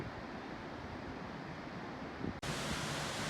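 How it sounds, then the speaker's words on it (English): Mountain waterfall on the Annapurna trek, a steady broadband rushing roar that fills the whole clip, with a brief dropout before it resumes slightly brighter. "there's just waterfalls everywhere because the mountains are so high."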